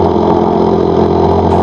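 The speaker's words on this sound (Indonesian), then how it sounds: "jadi saya memilih untuk memakai mesin biar cepat selesai" A motor engine runs steadily and loudly, droning at a constant idle-like pitch without pause, near a mangrove forest while crab traps are checked.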